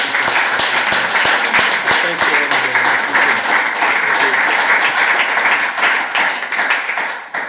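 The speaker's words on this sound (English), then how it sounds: "Let's give Herb a round of applause." Audience at a startup networking event applauding the guest speaker, steady dense clapping sustained throughout, close and loud, with some voices mixed in.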